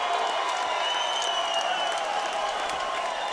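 Boxing crowd in Cheyenne, Wyoming, on their feet applauding and cheering after the bell ends a round, a dense, steady wash of clapping and crowd roar throughout.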